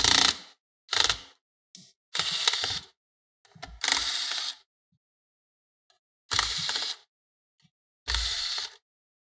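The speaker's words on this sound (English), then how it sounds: "To remove the hard drive, you have to remove four screws" A tool works on the hard drive screws of a Lenovo ideapad 110 laptop, giving about seven short bursts of ratcheting, clicking mechanical sound separated by silent pauses, close and clear.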